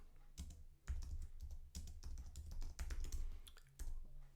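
Typing on a computer keyboard to rename a saved file, with a steady run of close, quick key clicks in short bursts and brief pauses between.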